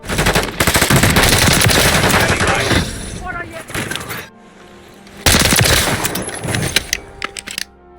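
Rapid automatic gunfire from Call of Duty Black Ops 6 with sharp hitmarker ticks, loud and dense, dropping to a quieter lull midway before another burst of heavy shooting.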